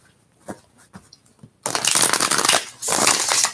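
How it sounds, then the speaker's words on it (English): Tarot cards being shuffled in two bursts of dense, crisp riffling after a few soft taps and handling sounds, close and loud. "For final shuffles."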